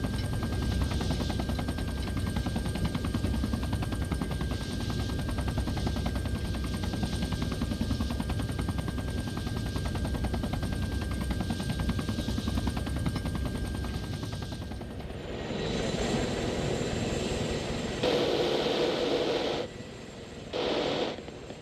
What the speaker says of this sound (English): So my door gunners are firing.